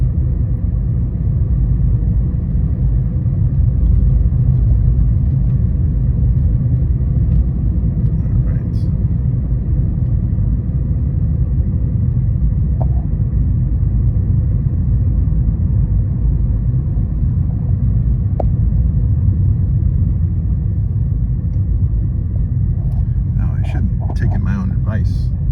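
A Celeste Blue 2015 Fiat 500e electric car drives on a nearly empty battery, giving a steady, loud low rumble of road and cabin noise throughout with only a few faint clicks.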